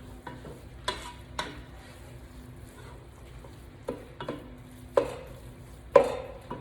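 Tri-tip meat browns in a pot for chili over a low sizzle, broken by several sharp scrapes and clacks of a utensil stirring against the pot at irregular intervals.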